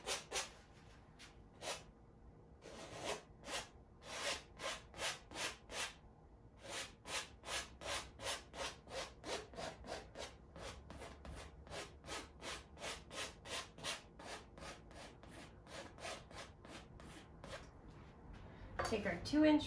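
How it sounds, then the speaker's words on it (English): A palette knife scrapes oil paint across a canvas in a long run of quick, regular strokes, close and fairly soft, steady in rhythm with brief breaks. "We want to move our paint around by scraping it."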